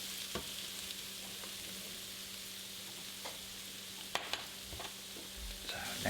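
Salsa carne sausage and diced padron peppers fry in a pan with a soft, steady sizzle, broken by occasional scrapes and knocks of stirring, fairly faint.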